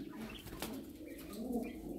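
Jumbo Boy Lahor pigeons coo softly in a loft with a brief flutter of wings, low and close but faint, with no voices.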